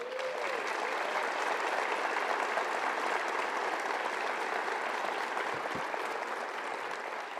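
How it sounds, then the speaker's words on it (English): A large crowd at a law school commencement applauds graduates with steady, dense clapping that holds evenly throughout, and no voices stand out. "How about a round of applause?"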